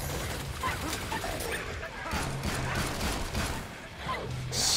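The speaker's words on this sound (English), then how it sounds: "they look like little puppies when they die. Yeah, they're yelping." Monsters in the zombie shooter Killing Floor 2 yelping like puppies as they die, with high whimpering yips mixed into steady gunfire and game noise, and voices chatting over it.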